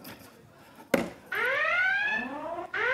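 Evacuation drill alarm with rising, sweeping electronic whoops that repeat loudly, following a sharp thud and brief muffled background sound.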